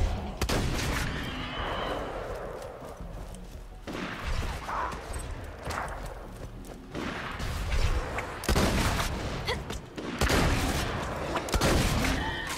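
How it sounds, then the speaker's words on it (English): Shotgun blasts in the video game Borderlands 2, played as the Mechromancer, heard as loud, spaced booming shots mixed with impacts and explosions over a continuous game soundscape. "Yeah, this shotgun's pretty damaging."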